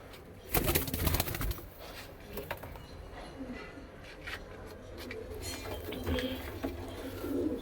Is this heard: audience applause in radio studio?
no